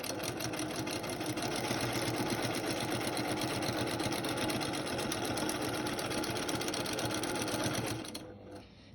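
A sewing machine free-motion quilting big feather plumes runs in a fast, steady mechanical whir for about eight seconds, then stops, leaving only faint room noise.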